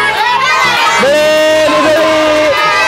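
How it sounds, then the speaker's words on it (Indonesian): Children shout and cheer together at a school market-day food stall, a loud, lively crowd of young voices with whoops rising over steady chatter throughout. "Teriak dong, ayo beli."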